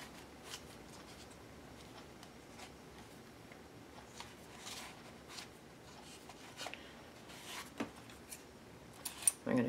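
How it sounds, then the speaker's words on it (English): Scissors snip through craft cord in a few short, quiet cuts near the end, after a stretch of soft rustling and handling at a table. "I'm going to cut mine so it's not in the way."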